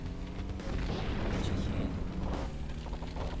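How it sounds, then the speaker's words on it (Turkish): A car explodes in the video game Payback 2 with a dense, roaring boom that rumbles and crackles for a few seconds, heavy and sustained. "Benim arabam da patladı"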